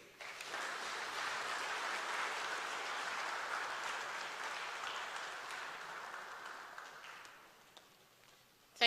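Audience at a meeting of chief executives with the President of Ghana gives a steady round of applause, dense and even, slowly fading away near the end.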